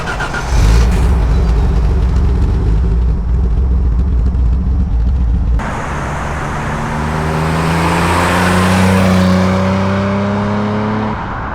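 A 1988 Ford Granada 2.9i V6 with manual gearbox and about 500,000 km on it is heard driving. A steady engine drone shifts at the midpoint as the car moves off and accelerates, with rising engine tones, and no talking.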